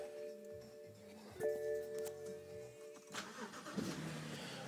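A BMW car engine starting in a garage: a starter whine and chime tones, then the engine catches with a sharp burst and settles into a rough, rising idle, close by with no talk.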